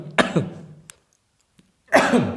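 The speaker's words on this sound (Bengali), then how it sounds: "অনেক রাত জেগে ভিডিও করতেছি তো কাশি আসতেছে" A person gives two harsh coughs at close range, separated by a short silent pause.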